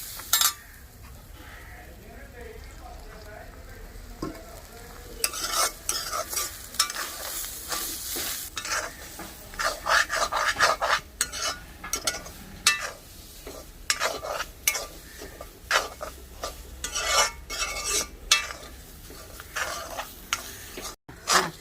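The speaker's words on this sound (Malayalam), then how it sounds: "തേങ്ങ പതുക്കെ വാടി കഴിയുമ്പോൾ ഈ ആവശ്യത്തിനുള്ള വെളിച്ചെണ്ണ ഒഴിച്ചിട്ട് വറുത്തെടുക്കണം" Grated coconut is stirred and roasted in coconut oil, giving a soft continuous sizzle broken by scraping and stirring strokes that grow busier partway through.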